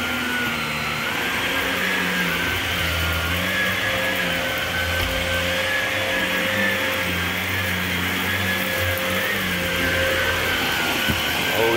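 A vacuum cleaner runs steadily inside an RV trailer, a loud continuous whine and motor drone that holds without a break from start to finish.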